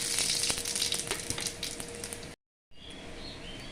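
Bay leaves and radhuni seeds sizzle in hot mustard oil in a pan, a loud, close, crackling fry that cuts out briefly and then returns softer. No one speaks.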